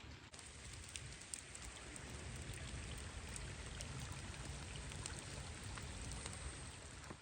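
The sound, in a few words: rain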